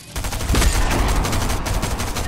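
Rapid gunfire bursts in Fortnite, loud and dense, rolling continuously for a couple of seconds after a brief quiet start.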